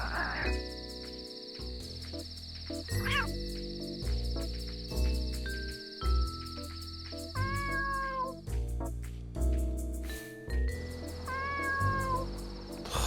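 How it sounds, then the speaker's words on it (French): Kittens meowing in the video game Dave the Diver, several short high mewing calls scattered over a bouncy game music loop with plucked notes and beats. "Oh, on a une famille de bébés chats."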